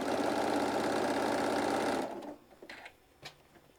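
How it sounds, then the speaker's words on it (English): A sewing machine stitches a 1-inch seam around a fabric gift bag with a slightly lengthened stitch, running loud and steady for about two seconds before stopping, followed by faint handling noises. "we're just sewing all the way around"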